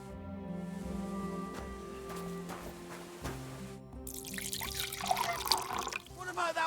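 Water pouring and splashing as a water skin is filled from a barrel in the video game Kingdom Come: Deliverance 2, a brief close trickle over soft game ambience and music.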